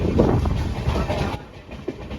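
A train rumbles steadily along the rails near Nandgaon Road with a broad low roar, easing somewhat partway through, with no talking.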